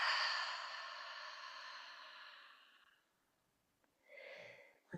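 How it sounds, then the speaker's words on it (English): Slow, breathy exhale during a guided yoga practice, a single long soft outbreath fading over about three seconds, followed after a pause by a shorter faint breath. "Breathing out at your own pace."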